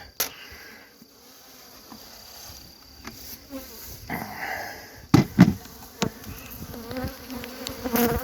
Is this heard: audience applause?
no